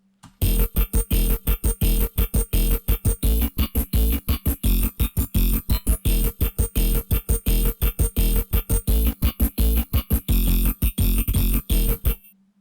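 Thick layered dubstep synth bass from the Vital synthesizer pulsing in a rapid choppy rhythm, loud and gritty, with dense buzzing texture and no speech.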